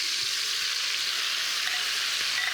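Squid stir-fries in a hot pan with a loud, dense, continuous sizzle and hiss, close up and unbroken, with no speech over it.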